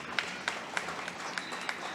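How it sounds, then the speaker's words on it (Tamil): Scattered audience applause at a kids' talent show as a special guest is called to the stage, a few sparse, faint claps spaced out over a quiet room. "உங்களுடைய கைத்தட்டல்களுடன்"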